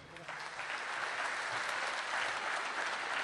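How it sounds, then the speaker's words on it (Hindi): Sustained audience applause at an Urdu poetry conference mushaira in Ichalkaranji, a dense, steady clapping from a large crowd that swells slightly and holds at full strength throughout. "तालियां कम पड़ रही हैं।"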